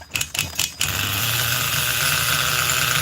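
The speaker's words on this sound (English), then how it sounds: "that's just how bloody rich this engine is" A Force .25 CNC model engine running rich during break-in, opening with a few sharp rattling knocks before settling into a steady, loud buzzing drone close to the microphone.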